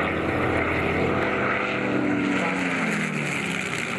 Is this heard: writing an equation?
no